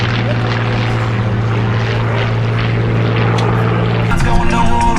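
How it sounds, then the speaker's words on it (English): A P-40 warplane takes off at an airshow, its propeller engine roaring loud and steady at close range, the pitch shifting as it climbs, with crowd and voices mixed in. "Taking off of the P-40"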